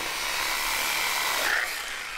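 Sawing wood in the survival horror game Darkwood: a steady, continuous rasping saw noise runs unbroken for a couple of seconds at moderate loudness, with no voices over it.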